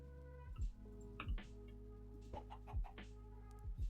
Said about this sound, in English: This is the chicken I hatched.